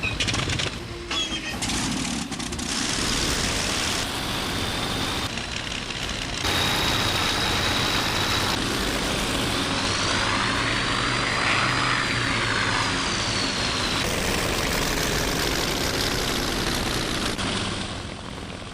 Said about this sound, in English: My engine at once thunders into life.